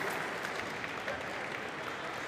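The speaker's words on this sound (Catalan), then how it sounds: "No sento gaire aquests aplaudiments" Applause from the audience at a university graduation ceremony, a steady, moderately loud wash of clapping that fills the whole moment without any breaks.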